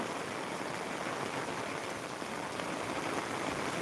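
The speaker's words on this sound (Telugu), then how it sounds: "దట్టంగా వర్షం అయితే కురుస్తుంది" Rain falls in a steady, soft hiss, a constant wash of noise without distinct drops and with no voices.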